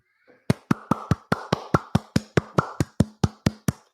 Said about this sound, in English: That was a clap.